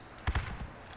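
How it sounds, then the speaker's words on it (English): Two quick gunshots crack close together in the Project Reality military shooter, followed by a softer third report, short and punchy over quiet background. "He just shot me from the street"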